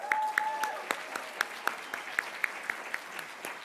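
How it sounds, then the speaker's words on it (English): Sparse, uneven claps from an audience at a homelessness media awards event, fairly close and modest in volume, with a brief tone at the start. "can we all give Lainey Harris a round of applause"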